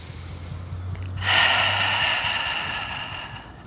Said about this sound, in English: You can exhale out through the mouth.